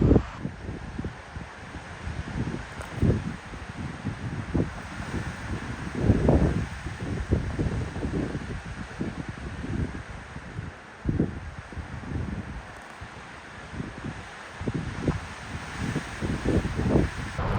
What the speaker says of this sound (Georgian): ვინაიდან გარეთ ქარი არ წყდება